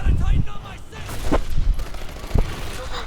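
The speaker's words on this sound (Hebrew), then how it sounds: "למה אני יורה בכלום?" Bursts of gunfire from a weapon in an Xbox One video game, several sharp shots scattered across the clip over a background of game sound and a voice talking.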